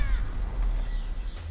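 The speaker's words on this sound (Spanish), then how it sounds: "El cuervo." A crow caws in the video game Tomb Raider, a short harsh call or two over a low ambient rumble, fairly close and without talk.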